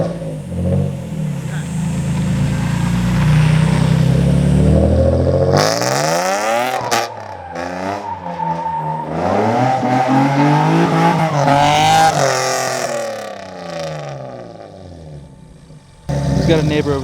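A Nissan G35 drift car with a slipping clutch revs hard in long, rising and falling roars, the engine wailing up and down through repeated bursts of throttle, loud and close, with a brief drop in the middle and a sudden final blast.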